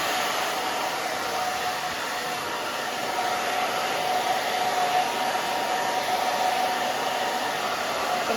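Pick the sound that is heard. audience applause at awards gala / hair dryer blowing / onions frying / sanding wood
hair dryer blowing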